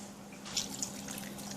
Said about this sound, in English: I'm gonna add just a little more water to this.